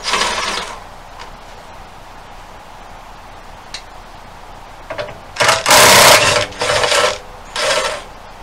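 An impact driver works on the engine housing of a snow blower, with short loud bursts of buzzing, rattling impacts near the end after quieter handling and clicks, close by.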